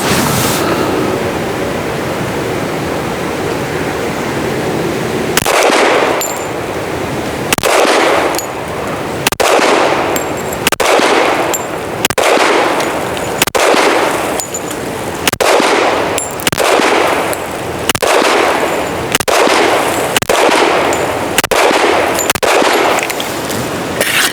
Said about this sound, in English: Let's not put our finger in the trigger until we're ready to shoot.